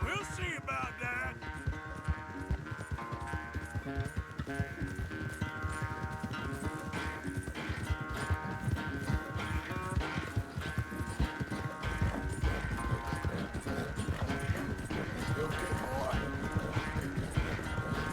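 Horse hooves clip-clop steadily in Red Dead Redemption 2, a continuous trotting rhythm lasting the whole stretch under dense game music and ambience.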